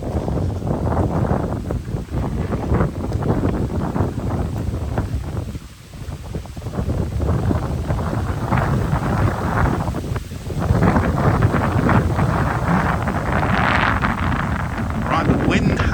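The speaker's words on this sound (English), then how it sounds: "the wind has picked up quite a bit now, so I hope you can hear me" Strong gusty wind buffeting a microphone outdoors at Chatsworth House in the Peak District, a loud continuous rumble with brief lulls, under a voice talking throughout.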